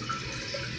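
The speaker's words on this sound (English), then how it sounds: "let's say this thing starts running water, okay?" Water runs in a Kohler toilet with a steady, even hiss and rush, moderately loud and close, lasting the whole brief moment.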